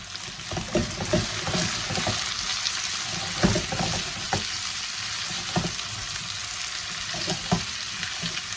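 Onions tipped into a hot pan alongside half-cooked potatoes sizzle and fry steadily, close and fairly loud, with scattered stirring clatters through the hiss.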